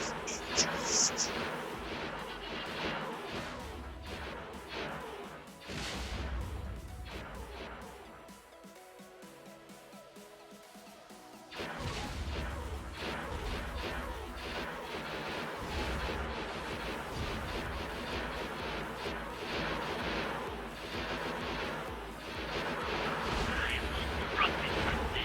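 Ship turrets firing in the X4 Foundations space game during a Star Wars Interworlds campaign, repeated booming shots and blasts over a busy game soundscape, with a brief lull midway before the firing resumes.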